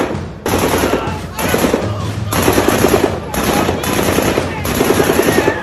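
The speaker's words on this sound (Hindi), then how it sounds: "ये तो LMG फायर की आवाज लगती है।" Rapid bursts of light machine gun fire, loud and sustained, repeating in several long volleys with brief pauses between them.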